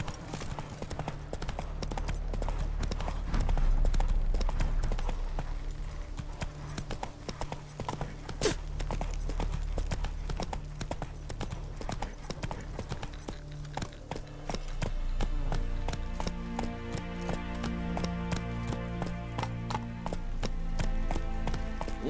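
Hoofbeats of Roach the horse run through The Witcher, a steady rapid clip-clop that carries on for over twenty seconds, with a brief whinny and game ambience underneath.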